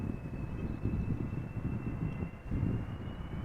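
A steady, loud jet engine roar with a faint high whine, sustained throughout as an Airbus A330 arriving at Amsterdam Schiphol Airport passes close by.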